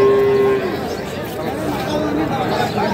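At a crowded rural cattle market in Dinajpur, a cow lets out a clear low moo lasting about half a second, then crowd chatter and voices continue behind it.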